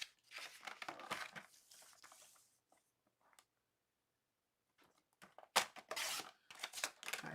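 Scissors cutting through a scrap of paper on a desk for a Hershey Nuggets box craft, close and quiet crisp snips and rustling in two bursts separated by a silent pause.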